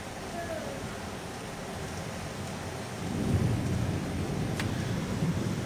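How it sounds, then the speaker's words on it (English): A thunderstorm with steady rain and wind hisses outdoors, a low thunder rumble building in the second half, with faint voices in the background. "You don't get rid of a storm."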